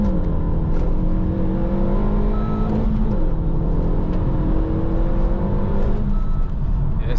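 A Renaultsport Megane Cup 250 hatchback accelerating in first gear, heard from inside: its engine drones loudly with rising revs that dip around the third second, climb again, then ease off near the end, with no talking.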